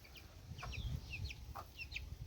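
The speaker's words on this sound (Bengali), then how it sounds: "আরে ওই যে কক কক করছে" Local desi chickens, sold by the kilo in Bangladesh, give short high clucks and chirps in quick scattered bursts, moderately close, over a low rumbling background with no talk.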